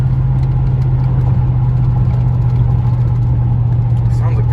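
A truck with a 5.3 engine, newly fitted with a 6.2 intake, runs at a steady low idle, its deep continuous drone close and loud throughout.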